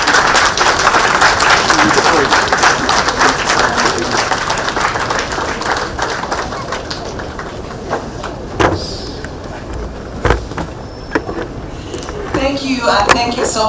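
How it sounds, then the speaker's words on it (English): A large audience at a farewell event for Uganda's retired Principal Judge of the High Court gives a loud, sustained round of applause with dense clapping throughout, while voices and cheers rise beneath it. "Let us give him a very big round of applause."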